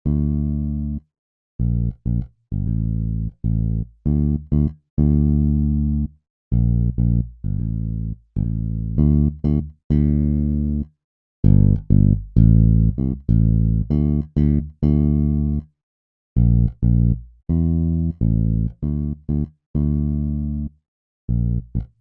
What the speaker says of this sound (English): So this is what the bass line sounds like.